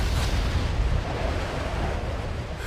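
A castle blown apart in an attack: a loud, sustained explosive rumble with deep low-end roar and a noisy wash, steady throughout with no talk.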